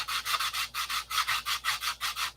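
Rhythmic back-and-forth sanding of wood by hand, about a dozen even strokes in quick succession, close and clear with no talking.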